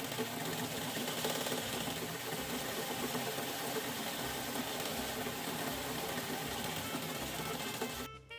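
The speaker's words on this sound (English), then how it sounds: "then I just started sewing" Antique sewing machine stitching fabric for a dress, running continuously with a loud, steady mechanical whir and rapid rhythmic clatter up close, stopping abruptly at the very end.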